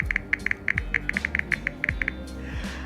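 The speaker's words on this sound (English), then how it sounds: "Samsung's One UI does provide a really natural sounding keypad sound." Keypad taps on a Samsung Galaxy M32 running One UI, a quick irregular run of about fifteen crisp, close clicks with a soft background hum and no talking.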